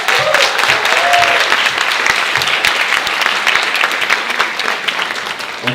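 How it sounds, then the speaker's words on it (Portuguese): Applause for Karina Rocha at a debate after the musical Entre o céu e o inferno: a crowd claps loudly and steadily for several seconds, dense and close, easing slightly toward the end. "uma salva de palmas para a Karina Rocha"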